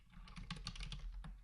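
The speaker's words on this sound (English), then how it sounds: "So then you would just start typing." Quick, light keystrokes on a computer keyboard patter in a fast run of clicks, quiet and close, with no talking.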